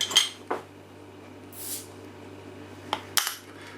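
Goose Island IPA bottle cap being pried off: a few sharp metallic clinks and snaps spread over several seconds, close and fairly loud over a steady low hum, with no voices.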